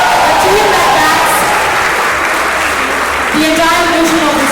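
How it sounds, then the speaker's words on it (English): A large audience at a Miss India event claps and cheers for the team, a dense, loud wash of applause that runs throughout while a voice speaks over it. "can we hear a loud cheer for the team?"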